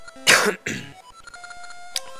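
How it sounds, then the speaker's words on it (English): A person clears their throat twice in quick succession, two short raspy bursts close to the mic, followed by quiet electronic game music in the background. "I need to clear my throat"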